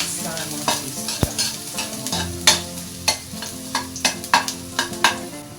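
Ginger stir-fried in hot oil in a pan, with a steady sizzle and repeated scraping and stirring strokes from a utensil at close range, no voices.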